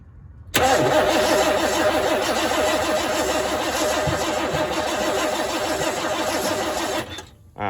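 A 1992 Chevy truck with a throttle-body-injected engine cranks and catches, then runs at a steady, loud, close idle for about six seconds before dipping and briefly picking up again.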